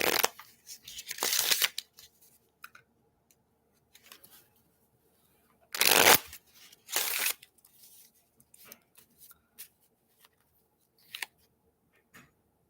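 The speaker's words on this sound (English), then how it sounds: "Let's do some fortune telling with a deck of cards" A deck of playing cards being shuffled by hand, with a few quick riffling bursts spread apart and light handling noises between them, close and fairly quiet with no talking.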